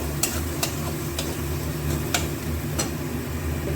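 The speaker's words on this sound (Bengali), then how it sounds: "এবার এগুলোকে একটু নাড়িয়ে চালিয়ে দিই।" A spoon stirs bhetki fish pieces coated in turmeric and Kashmiri chili powder in a pan, with soft scraping under a steady low sizzle and several sharp clinks of the utensil against the metal.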